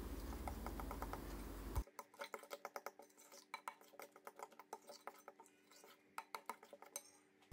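A spoon stirs a hazelnut and walnut mixture into halva in a bowl, giving a string of quiet clinks and scrapes in an uneven rhythm, close by and without talk, after a brief louder rustle at the start.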